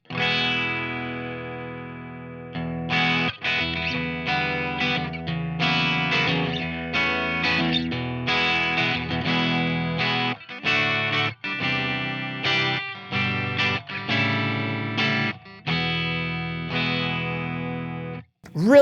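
Peavey Axcelerator electric guitar on the bridge pickup through an amplifier's clean channel, playing a run of ringing chords and single notes with short pauses, close and steady for most of the stretch.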